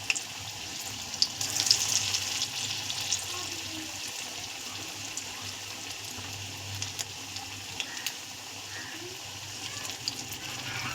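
Sadna flowers, already boiled, lightly frying in a pan at home: a soft, steady hiss and faint crackle runs throughout, fairly quiet and even, with a few small spikes near the start.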